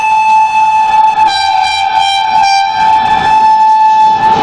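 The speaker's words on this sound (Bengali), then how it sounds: "মেল ট্রেন ঢুকছে।" A mail train pulls into a station, its horn blaring loud and sustained over the steady rumble of the railway cars rolling close by, with no voices.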